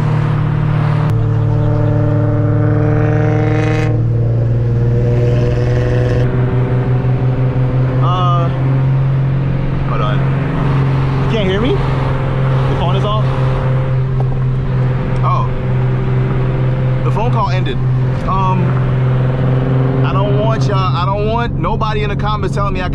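Nissan 350Z engine pulling hard in fifth gear on a canyon road, a loud steady drone with rising and falling pitch sweeps, close and continuous, with occasional voices over it.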